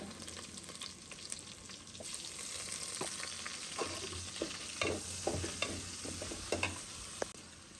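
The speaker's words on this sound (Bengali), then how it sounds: "এখন মশলা দিয়ে তারপর কষিয়ে নেবে" Spices with ginger-garlic paste sizzle in a hot pan while being stirred, with scraping strokes and crackles growing busier toward the end; no one speaks.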